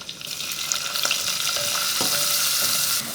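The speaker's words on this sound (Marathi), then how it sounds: "कांदा हलका सोनेरी रंगावर परतून घेऊयात" Finely chopped onion sautéing in oil with crushed garlic for chicken rassa, a close, busy sizzle with repeated spatula scrapes and stirring knocks over the pan, no speech.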